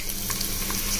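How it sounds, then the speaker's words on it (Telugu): Garlic sizzling in hot oil for a tempering, a dense steady crackling fry heard close and unbroken, with no talking. "మనం తీసుకున్న వెల్లుల్లి వేసుకుంటున్నాము."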